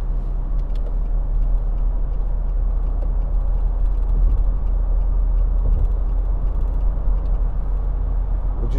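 A 2013 Nissan Navara 2.5 dCi Tekna double cab pickup on heavy-duty pattern tyres cruising at about 70 mph on a motorway, with a steady loud low road and engine drone filling the cabin throughout.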